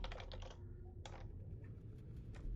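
Quick clusters of keystrokes clatter on a computer keyboard, a short burst of close, crisp taps followed by a single tap and then quiet.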